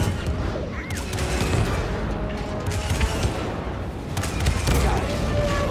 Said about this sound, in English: So that fires the cannons.